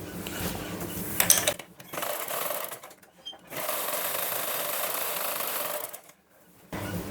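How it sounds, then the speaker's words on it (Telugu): A sewing machine stitches a blouse in several steady mechanical bursts, running for a second or more at a time, separated by short pauses. It sounds close and moderately loud. "ఇప్పుడు స్ట్రైట్గా ఇక్కడ వరకు ఎండింగ్ వరకు అయితే కుట్టు వేసేసుకోవాలి"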